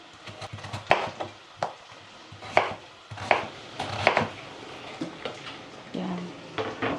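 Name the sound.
slicing vegetables for cooking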